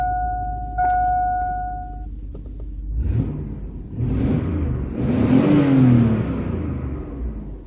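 Car engine fitted with BRISK Racing laser spark plugs, heard after a few faint clicks and a tone: several rising revs and a deep rumbling acceleration, growing louder and closer toward the end.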